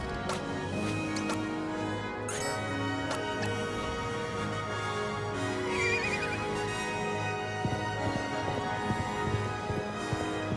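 A horse in the video game Live A Live neighs and whinnies in several sharp bursts over a looping musical background, with clip-clopping hoof sounds in between, loud and close with no talking.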